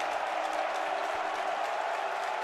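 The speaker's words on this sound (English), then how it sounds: "Here comes the majority Cream and Crimson crowd again." Crowd at a Big Ten college basketball game in Chicago, a steady roar of applause and cheering from a large arena audience, sustained and even throughout.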